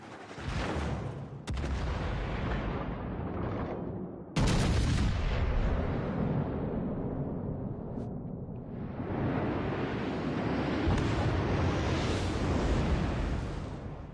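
Battleship main guns firing in the naval combat game World of Warships: Legends: a few heavy booming salvos crack out, then a long, loud, rumbling roar sustains and swells, with no talking.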